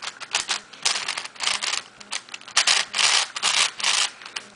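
Clicky V-Cube 6 puzzle cube being turned in quick bursts, a rapid plastic clattering and ratcheting close up, in irregular runs of fast clicks with short pauses.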